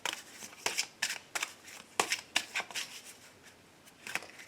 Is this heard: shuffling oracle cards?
yes